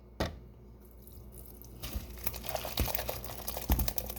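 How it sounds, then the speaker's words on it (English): Whey drains from lemon ricotta curds in a home kitchen, giving faint, close splashing and dripping with soft crinkly clatter, quiet throughout. "Draining. Oh, it's splashing everywhere."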